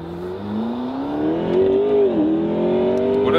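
A McLaren 12C Spider sports car accelerates hard, its engine note rising smoothly in a loud, close whine, dipping briefly at a gear change and then climbing again, with no talking.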